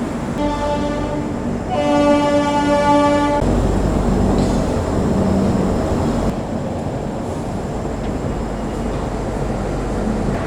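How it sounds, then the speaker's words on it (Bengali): The Puri Garib Rath Express pulling out of platform 2 at Shalimar station, two loud sustained horn blasts followed by a steady rumble of the moving train. "আমাদের ট্রেন ছেড়ে দিল শালিমার রেলওয়ে স্টেশনে 2 নম্বর প্ল্যাটফর্ম থেকে।"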